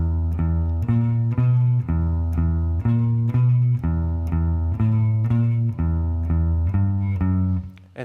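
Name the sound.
electric guitar playing a riff slowly, palm muted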